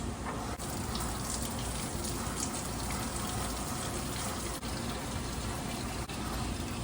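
Steady rushing pour of KOH solution into a container for a base bath, a continuous gushing fill with no talking.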